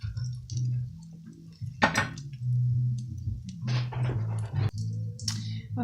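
A frying pan of fish being shifted across a stovetop to another burner, with several scattered metallic knocks and scrapes between quieter pauses and a low hum in the background.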